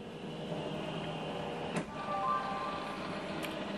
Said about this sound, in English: click scan, and it start to scan